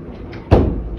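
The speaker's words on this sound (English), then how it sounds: "A door just closed." A single solid thump of a door shutting indoors at about the halfway point, loud and close, with a short low rumble trailing after it and quiet room tone before.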